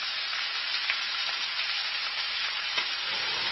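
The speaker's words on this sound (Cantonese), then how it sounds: "而家我爆香嗰啲葱薑" Ginger slices and scallion whites sizzling in hot oil in a wok beside braising pork belly, a loud, dense, continuous frying hiss close to the pan with no voices.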